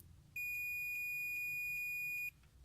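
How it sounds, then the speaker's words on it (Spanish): A multimeter gives its continuity beep as the positive and negative probes touch: a single steady high electronic tone lasting about two seconds over a faint background hum, with no talking. "al juntar tanto la terminal positiva y negativa, existirá un pitido del multímetro"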